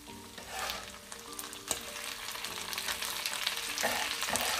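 Pieces of food cut into eighths hiss and crackle as they fry in a pan, a steady close sizzle that swells slightly, with a faint clink of utensil, no voices.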